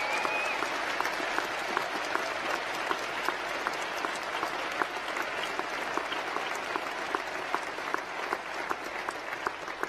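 A large audience at an honorary doctorate ceremony applauds steadily and loudly, dense clapping with occasional louder claps and faint cheering, sustained for the full duration without letting up.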